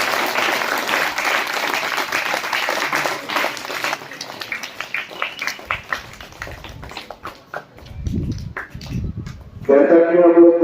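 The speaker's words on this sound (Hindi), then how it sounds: "ताली बजाओ बच्चे सब।" Schoolchildren clap at a school program honoring the Veer Kunwar Singh birth anniversary. A burst of applause fades into scattered, uneven claps, with some talk and low thumps near the end.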